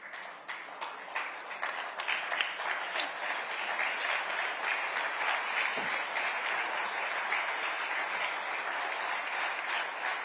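Sustained standing ovation from a large crowd at an awards ceremony, dense and continuous clapping heard from a distance, steady throughout without pause.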